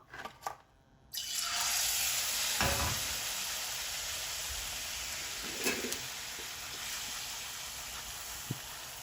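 Pappada vada frying in bubbling hot oil gives off a steady, moderately loud crackling sizzle that starts abruptly after a second of faint noise and carries on evenly, with a few soft pops.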